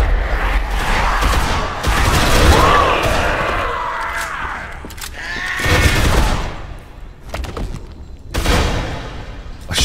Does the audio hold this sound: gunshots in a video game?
yes